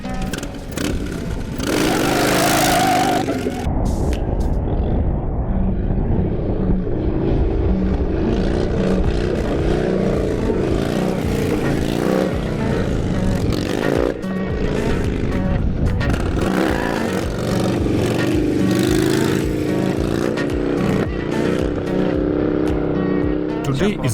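A Harley Road Glide fitted with lengthened fork, upgraded suspension and a 23-inch front wheel roars loudly on a test ride, its engine rising and falling steadily under someone talking throughout.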